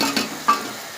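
Onion and masala paste with tomato sizzle softly in a pan while being stirred, with a faint scrape partway through.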